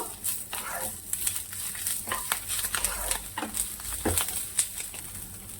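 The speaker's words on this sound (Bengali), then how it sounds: "এবার এটাকে আমি ভালো করে টেলে নেব" Vegetables being stirred and fried in a pan with salt and turmeric, a steady scraping and clattering of a spoon with a soft sizzle underneath, close and fairly quiet, with no talking.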